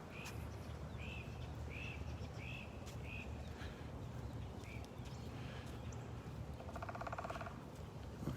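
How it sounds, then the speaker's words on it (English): A woodpecker drums on a tree in the distance near a beach in North Naples, Florida, with one brief, rapid, faint burst of pecking near the end. Earlier, a series of bird calls sounds over a steady outdoor hiss. "I hear a woodpecker in the distance pounding away on a tree."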